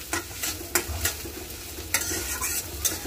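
Meat and potatoes being stirred in a frying pan, with a steady sizzle and repeated scraping strokes of a utensil against the pan at an irregular rhythm, close and fairly quiet.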